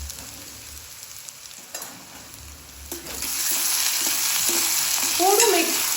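Garlic and potatoes fry in oil in a pan for a fenugreek kids' snack. Quiet scraping gives way to a loud, steady sizzle with stirring strokes in the second half.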